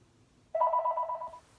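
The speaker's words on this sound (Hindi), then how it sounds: "अभी फ़ोन आ गया गाइस" A telephone rings indoors in a home, a single close, clear electronic ring lasting about a second before cutting off, with no talk over it.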